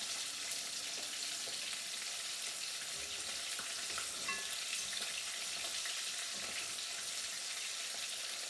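Fish fillets fry in a pan with a continuous soft sizzle and crackle, steady and fairly quiet, with faint clinks of movement in the kitchen.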